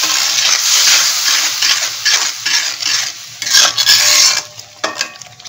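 Hot water goes into a pan of pabda fish curry and sets off an immediate, vigorous bubbling sizzle close by. A spoon stirs and clinks against the pan, and the noise trails off in short bursts.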